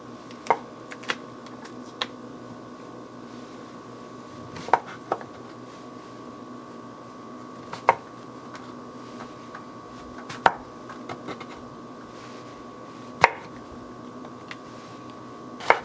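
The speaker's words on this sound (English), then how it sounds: "keep chopping our mushrooms here" Knife chopping two portobello mushrooms on a cutting board while making risotto ai funghi, giving sparse, sharp single taps spaced a second or more apart over a steady low kitchen hum.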